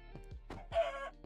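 A Minecraft chicken in the FTB Stoneblock 3 modpack gives a quick run of short clucks followed by a longer squawk, close and clear with no talk over it.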